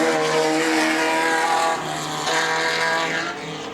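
Off-road race cars roar past at a New Zealand national final, loud engines droning with strong harmonic whine, pitch shifting slightly as they accelerate and pass close by.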